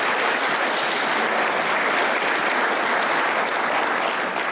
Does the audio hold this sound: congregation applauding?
yes